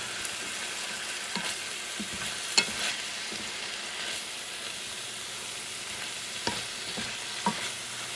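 Ground meat being stirred and fried in a pan after draining the grease, with a steady sizzle and a few scraping knocks from the stirring, close up and without talk.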